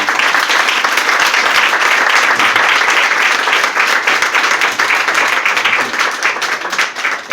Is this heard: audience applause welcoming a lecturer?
yes